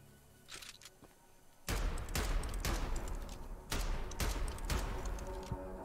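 A cannon fires in the video game Choo-Choo Charles, loud booming blasts landing in quick bursts after a quieter start, each followed by a rumbling tail.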